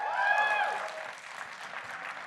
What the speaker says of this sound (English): Let us clap for the game, yes.